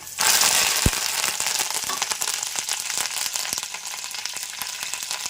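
Curry leaves hit hot oil for a raw mango and grated coconut chutney, setting off a loud, dense crackling sizzle with a sharp pop early on that settles into steady frying close by.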